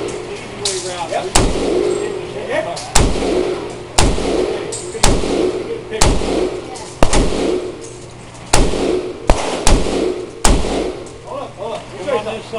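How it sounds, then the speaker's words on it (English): Repeated single shots from an FN FAL rifle fired at an indoor gun store range in Las Vegas, about nine sharp loud cracks spaced a second or so apart, with people talking between shots. "set it down on the bench like this and I'll shoot 20 shot, 20 holes!"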